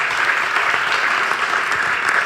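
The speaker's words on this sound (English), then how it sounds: "Big round of applause." An audience at a female leaders forum claps steadily, a dense, loud wash of applause from many hands that holds even throughout.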